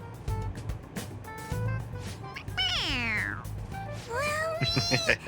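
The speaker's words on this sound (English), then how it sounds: "It meows when you press on its head." A stuffed toy cat meowing when its head is pressed in the Persona 5 Royal video game, two distinct rising-falling meows over a steady background hum, with game music and effects underneath.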